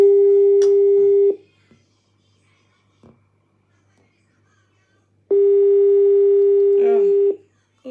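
An outgoing phone call rings as two long, steady electronic tones separated by several seconds of near silence, loud and close, with faint whispering and small noises in the gap.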